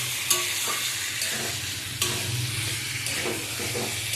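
Papaya and potato stirred into a fried spice paste in a pan, a spoon scraping in uneven strokes with a few sharper knocks over a steady close sizzle, no voices.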